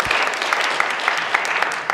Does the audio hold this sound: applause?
yes